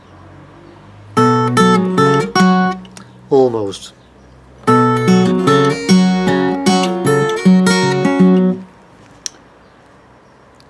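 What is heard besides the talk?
blues guitar playing ragged and dirty blues verse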